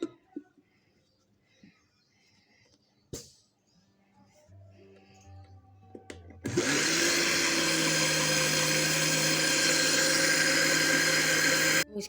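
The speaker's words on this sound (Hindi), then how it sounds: "अब हम उसको डाल के 1 से 2 मिनट के लिए बीट करेंगे।" After a few soft clinks and taps, an electric beater whirs into cake batter of sugar, oil and egg yolks, a loud steady motor drone that runs close and unbroken to the end.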